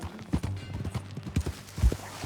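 A horse's hooves clip-clop at an easy riding pace in the video game Red Dead Redemption 2, a fairly faint, uneven run of thuds with a few heavier steps.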